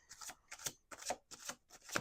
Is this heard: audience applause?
no